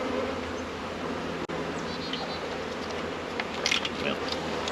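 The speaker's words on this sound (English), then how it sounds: "That's a lot of bees" A dense, steady buzzing of many honeybees fills the air at a hive entrance during a package installation, continuous and close, with a brief dropout partway through.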